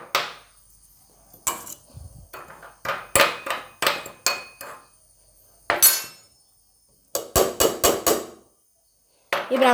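Mango pickle being stirred with Brahmins pickle powder: a spoon scrapes and clinks against the vessel in repeated sharp bursts with short pauses between them, close and fairly loud, with no talking.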